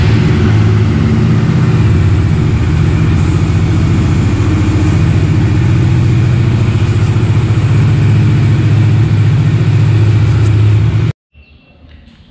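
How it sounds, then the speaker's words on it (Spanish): A Bajaj Dominar 400 motorcycle engine runs at a steady, loud idle close by after being started for an oil change, a low even rumble that cuts off suddenly near the end. "vamos a proceder pues a encender la motocicleta para que comience a circular todo el aceite"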